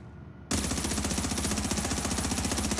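Bullfrog machine gun firing in The Division video game, a sudden burst that becomes continuous rapid, evenly spaced loud shots, close and sustained until the end.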